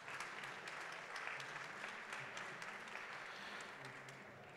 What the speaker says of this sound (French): On peut vous applaudir très fort encore.